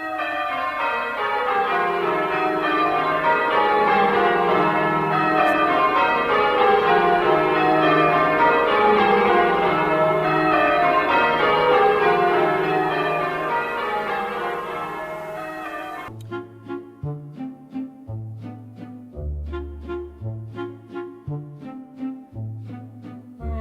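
Church bells ring in cascading descending rounds of changes, full and continuous, then drop to a sparser, quieter pattern of fewer struck bells near the end; no voices.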